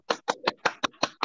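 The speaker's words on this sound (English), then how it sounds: "let's give a big round of applause to all the distinguished Toastmasters present" Seven brisk hand claps at an online Toastmasters meeting, in a steady, quick rhythm, close by and fairly quiet, with no talking.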